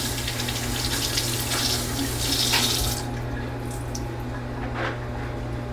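Warm water runs steadily from a bathroom tap into a sink, a continuous close splashing stream that softens slightly partway through.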